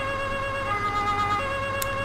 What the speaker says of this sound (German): Erst machen wir mal die Sirene an.